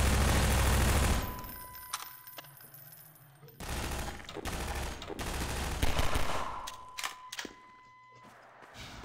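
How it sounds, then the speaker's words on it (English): Rapid bursts of SMG machine-gun fire in Half-Life 2, in the Point Insertion and Route Kanal chapters, loud and close, with short pauses between volleys and no speech. "Why is this fucking machine gun so loud?"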